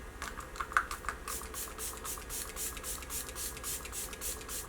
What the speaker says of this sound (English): This is the Surreal Skin Soft Setting Spray.